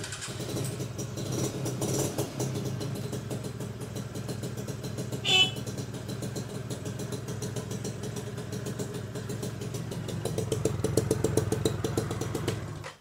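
Old motorcycle with double starter idling steadily with a loud, throaty exhaust, close by, engine rising slightly toward the end with a brief sharp clatter midway.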